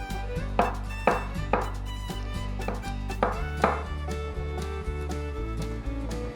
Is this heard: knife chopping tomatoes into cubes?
yes